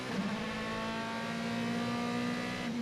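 Onboard a DTM race car at the Lausitzring, the engine drones steadily and loudly throughout, its pitch climbing slowly as revs rise, with faint tyre and wind noise underneath.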